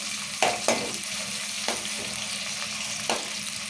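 A small tomato fries in a pan for masala brinjal, making a soft, steady sizzle broken by four sharp stirring scrapes.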